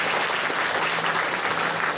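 A crowd at a district community forum and New Year tea gathering in Longtan breaks into sustained applause, dense and steady, filling the room.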